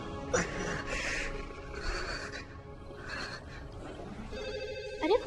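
Telephone ringing faintly in short repeated bursts within a noisy scene from a Chinese animated film dubbed into Hindi, mixed with breathy vocal sounds and background clutter.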